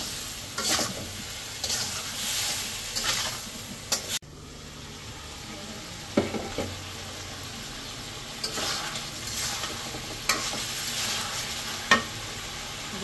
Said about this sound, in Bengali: ধনিয়ার গুঁড়া। ভালোভাবে কষিয়ে নেব।